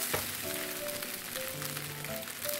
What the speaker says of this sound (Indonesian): Kemudian diaduk-aduk, ditumis lagi seperti ini sampai benar-benar kecampur rata ya.